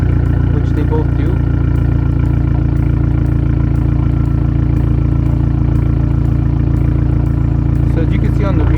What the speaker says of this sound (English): So we're going to start with the Fiat. We're going to go ahead and fire it up.